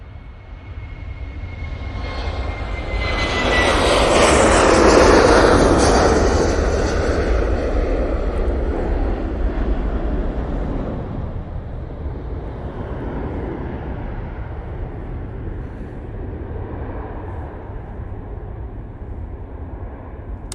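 A plane arriving at Manchester Airport, its rumbling roar swelling to a peak about five seconds in, then easing into a steady, fading drone as it passes on.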